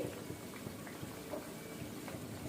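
Sindhi satta sweets deep-frying in hot oil give a faint, steady bubbling sizzle that continues evenly with no voices.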